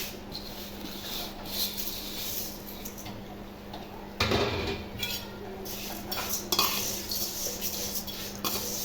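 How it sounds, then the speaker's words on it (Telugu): Vermicelli stirred and roasted in a little oil in a pan, with a continuous low sizzle under repeated scraping and clinking of a spoon against the pan, some strokes louder than others. "సేమియా పచ్చివాసన పోయేంత వరకు వేయించుకోవాలండి."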